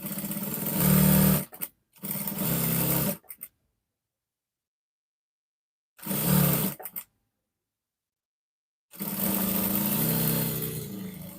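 A sewing machine stitching a flare dress runs in loud mechanical bursts of one to three seconds separated by silent pauses, its motor whirring and buzzing close by.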